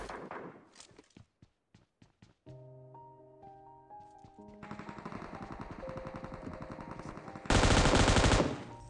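Gunfire in PUBG Mobile, starting with a few sharp separated shots, then a long run of dense rapid automatic fire that swells into a loud, harsh burst near the end, with no talk.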